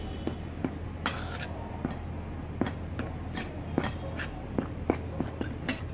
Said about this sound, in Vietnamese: Trộn đều lên.